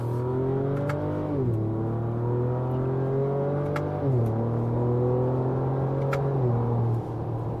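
A Ford Ranger Raptor pickup accelerates hard, its engine rising steadily in pitch and then dropping abruptly at each of three quick upshifts, loud and close with a constant droning tone.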